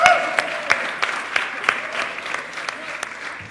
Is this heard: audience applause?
yes